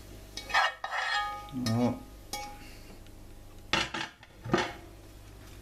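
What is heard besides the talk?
stirring cooked pepper, onion and potato in a pan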